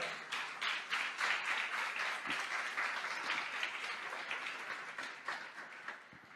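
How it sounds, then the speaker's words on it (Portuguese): A church congregation claps during a worship service, a full, continuous round of applause from many hands that holds steady for several seconds before slowly thinning out, with little talk beneath it. "Você pode aplaudir o Senhor?"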